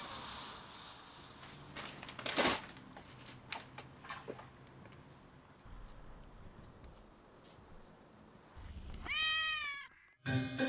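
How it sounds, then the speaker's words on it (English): A very young male tabby kitten staying at a cat boarding home lets out a single clear, rising-and-falling meow near the end, after quiet rustling and light ticking sounds in a calm room. "On this occasion, the guest is a very young male tabby, Tai Lang."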